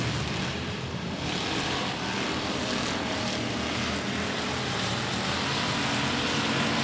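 Factory stock race cars roar away on the green flag in a heat race at 105 Speedway, a dense, constant engine wash that holds steady and loud throughout with no voices.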